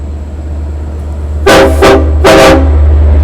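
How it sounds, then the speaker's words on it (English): Two loud, close blasts of a Long Island Rail Road EMD DM30AC diesel locomotive horn sounding a salute, each sustained about half a second, over a steady low engine rumble. "That was a return salute from the engineer to us."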